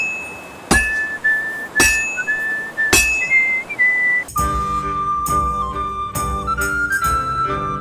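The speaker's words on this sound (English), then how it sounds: "he's whistling tunes from the previous game" A character in the video game Kingdom Come: Deliverance 2 whistles a tune in clear sustained notes over a sparse melody of struck, bell-like chimes, then a fuller musical passage with sharp percussive hits joins the whistling.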